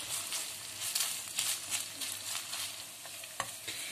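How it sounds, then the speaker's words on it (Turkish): Meat for tantuni sizzles and crackles in plenty of hot oil, with occasional stirring scrapes, close up and fairly quiet. "Şimdi yağını koyacağım. Şöyle bol yağlı. Biraz da yağda çevireceğim arkadaşlar."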